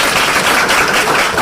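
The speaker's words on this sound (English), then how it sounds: "Give me a round of applause." A seminar audience gives a brief burst of loud, dense clapping, close and continuous for the full moment with no talking.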